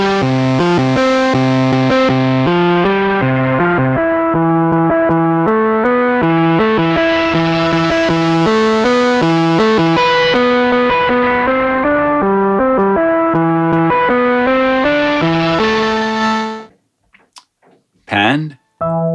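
A distorted kick drum sequence from the AudioKit iOS synth repeats in a steady, pitched rhythm with gritty harmonics and a swelling, filtered tone, loud and alone before cutting off abruptly near the end.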